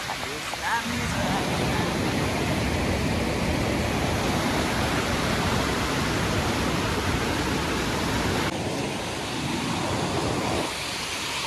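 Rushing water of the Jaldhaka river, a steady loud broadband roar that fills the whole stretch without a break, close to the listener.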